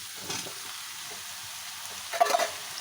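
Pointed gourd, with sweet potato nearby, is stirred as it fries in a pan during a village-style mixed vegetable dish with fresh fish, making a soft sizzle under brief scraping bursts near the start and the end.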